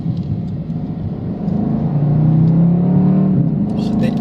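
Engine of a 2023 BMW M850i Convertible while driving, a loud steady rumble that swells into a rising drone partway through, with faint voice traces over it.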